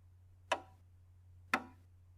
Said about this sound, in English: The beat of a piece of music is, by itself, kind of boring.